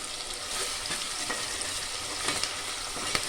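Ingredients fry in a pressure cooker until browned for tomato rice, a dense continuous sizzle with occasional stirring scrapes and crackles, close and fairly loud, no voices.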